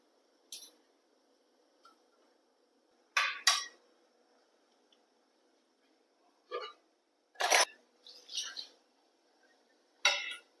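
Maggi noodles stirred and turned in a pot with ghee while cooking, giving several short scraping and clinking utensil-on-pot bursts separated by quiet pauses, close and moderately loud.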